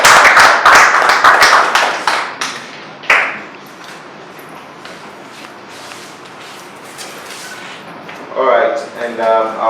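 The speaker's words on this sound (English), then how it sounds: "Please, a round of applause for him." Applause at an African award and conferment ceremony: a burst of sharp, close claps that fades within a few seconds, leaving quiet room noise with soft shuffles and a brief murmur of voices near the end.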